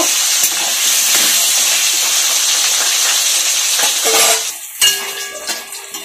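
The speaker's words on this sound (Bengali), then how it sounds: "আমার আলু ভাজা হয়ে গেছে, এগুলাকে তুলে নিব।" Salted, turmeric-dusted potatoes fry in hot oil with a loud, hissing sizzle that cuts off near the end, followed by a few metal utensil clinks and scrapes.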